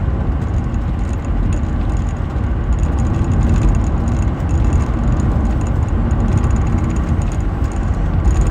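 A 1993 Jaguar XJS 6.0 V12 coupe is heard on the move, its engine a steady, smooth low drone with road rumble, close and continuous with no voices.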